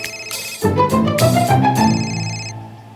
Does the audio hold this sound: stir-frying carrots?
no